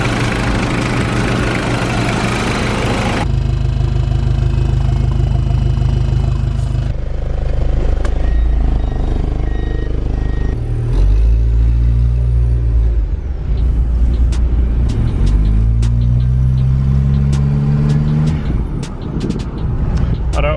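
A 1994 Toyota Hilux Surf KZN130 with a fresh rocker valve cover gasket and a weak battery runs and drives, its engine note steady and loud throughout with rising and falling rev sweeps as it pulls away and shifts, plus faint background voices.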